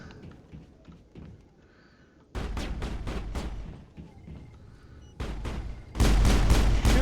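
Gunfire in the sci-fi shooter Mass Effect comes in loud, close clusters of sharp shots, first a run of rapid bursts, then a pause with quieter combat noise, then heavier blasts at the end.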